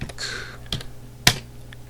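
Computer keyboard keys clack in a few sparse, separate strikes while commands are typed into the Quest for Glory game, with one louder sharp key hit near the end and no talk.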